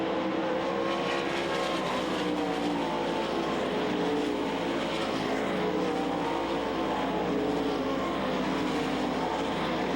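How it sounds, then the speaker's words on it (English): Sprint cars race around the Knoxville Nationals speedway in a steady, dense engine roar of the whole field, continuous and fairly loud, with no clear voices over it. "Brad Furr in the Sanmina car trying to run down Gary Wright down the backstretch"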